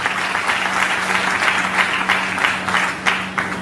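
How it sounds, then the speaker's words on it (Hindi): Audience applause for the girls seated at a speech event in Nagpur, Maharashtra: a steady, dense wash of many hands clapping, fairly loud and sustained throughout, with no talking over it. "यहाँ पर बैठे हुए सभी लड़कियों के लिए एक बार जोरदार तालियां होनी चाहिए"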